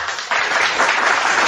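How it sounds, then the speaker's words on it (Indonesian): Lively applause from a crowd at a religious talk, loud dense clapping that surges in after a brief quieter moment and continues steadily to the end. "Jadi berikan tepuk tangan yang meriah untuk Dinda Fandi Ahmad."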